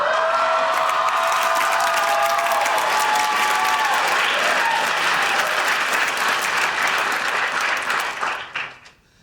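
A studio audience at a sitcom taping breaks into loud, sustained applause with some cheering, dense and steady before fading out at the end.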